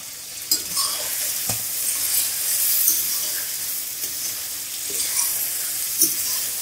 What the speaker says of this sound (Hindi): आठ मिनट हमने चिकन को फ्राई किया है।